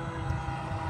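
The motor of a 3D-printed RC boat drones steadily as the boat drives across the water, a constant mid-level hum with some wind noise.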